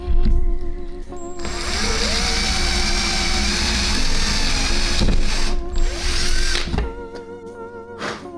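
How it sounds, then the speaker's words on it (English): A power drill bores a hole through a panel for a 4Runner rear storage drawer build, a loud close whining drone running several seconds with brief dips and a final burst, and no talking. "when I drill a hole, that hole ends up lining up perfectly with the slot under there"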